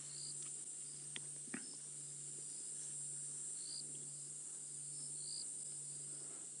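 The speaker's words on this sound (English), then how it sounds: "The cicadas are calling" A faint, steady cicada drone hums through a quiet evening in the African bush on safari, with a couple of soft clicks and distant chirps over it.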